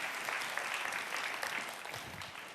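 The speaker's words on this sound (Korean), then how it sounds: "하나님께 영광의 박수 올려드리겠습니다" A church congregation at a Korean youth worship service claps together in sustained, dense applause that fills the room evenly for several seconds with no voices over it.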